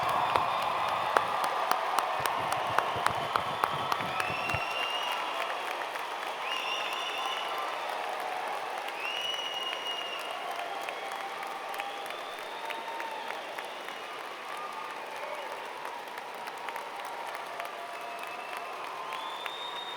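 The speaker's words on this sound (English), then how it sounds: "round of applause for our graduates today" Graduates of the Class of 2016 receive a sustained round of applause at a university commencement, dense clapping with scattered cheers and whistles filling the hall for the full stretch, steady and fairly loud throughout.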